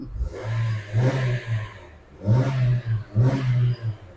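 A stock 2018 Honda Civic FC 1.8 EL petrol engine revved in three short bursts, each rising and falling back toward idle, heard close with no talk.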